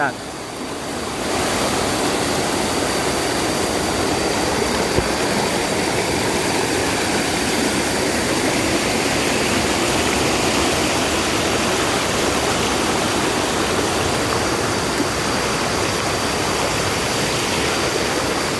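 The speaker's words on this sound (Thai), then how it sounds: "มาหอดนี่ก็น้ำตกคือกันเด้อไหลจัด" A strongly flowing waterfall on the trail to Tat Chao Wa falls near Phu Khao Khwai, making a loud, steady, broadband roar that fades in at the start and then holds unbroken throughout.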